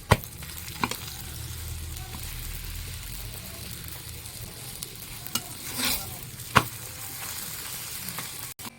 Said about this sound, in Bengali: এবার অল্প অল্প করে ঘি দিয়ে দেবো ঘি দিয়ে তোমরা ভাজতে পারো এরকম করে